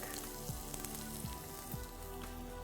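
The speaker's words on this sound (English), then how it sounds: "Just add a little bit of chopped garlic." Chopped garlic and cumin seeds sizzle steadily in hot oil in a pan while tomato rice soup is cooked, a continuous close crackle with no one speaking.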